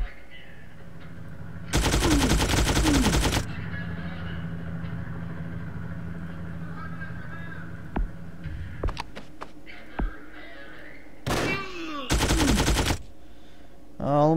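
Gunfire in the Frontline Tactics video game, set around a fishing village, comes in loud, dense automatic bursts, one long burst early and two shorter ones near the end, with scattered single cracks between over a quiet ambient hum.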